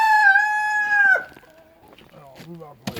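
A rooster gives one long, loud, nearby crow lasting about a second, followed by quieter clucking and voices speaking in the background.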